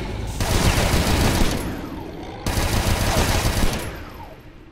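Rifle gunfire in SIREN, a Doom 2 total-conversion mod, as two long sustained bursts of loud, rapid shots, each running about two seconds with a brief break between and echoing tails trailing off.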